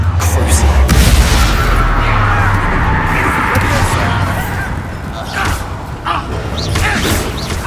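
A Confringo fire spell in Hogwarts Legacy, played on PS5, sounds as a loud, rumbling explosive boom with swooshing bursts. It rolls over a steady game backdrop and a spoken incantation.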